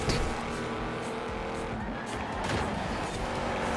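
A Lamborghini driving in Forza Horizon 4, a loud sustained engine roar with tire squeal and shifting pitch, continuous and close.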